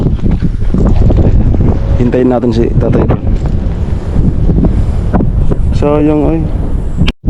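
Strong wind sweeps over open water near a motorboat, a constant loud rush with mic buffeting, while people talk briefly at two points and the sound cuts off abruptly at the end.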